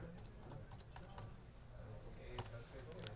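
Faint keystrokes on a computer keyboard while entering a subgrade code in Civil 3D Subassembly Composer, scattered soft clicks at low level over a quiet background.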